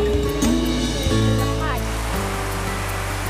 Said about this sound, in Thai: เพื่อนๆได้ยินเสียงน้ำตกไหมคะ